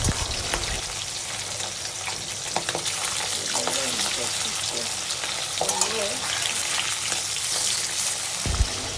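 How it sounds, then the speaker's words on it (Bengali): Hilsa fish frying in hot oil on a rainy day gives a steady, dense crackling sizzle that fills the scene, close and fairly loud, with occasional soft stirring clicks and a faint voice. "আজকের ইলিশ মাছ ভাজা কমপ্লিট হয়ে গেছে।"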